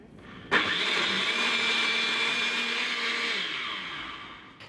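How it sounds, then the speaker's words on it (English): A blender whirs steadily for about three seconds while mixing donor stools with saline, switching on abruptly with a loud motor whine and winding down at the end, close and alone. "Several donor stools and saline mixed together in a blender."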